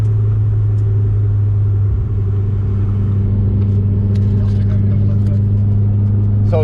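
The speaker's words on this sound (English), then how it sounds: "So again now flat foot shifting 1 to 4th, first to 4th gear." A Stage 3 tuned Subaru engine drones loud and close in a deep, steady rumble under hard acceleration through flat-foot shifts from first to fourth gear. A person talks over it.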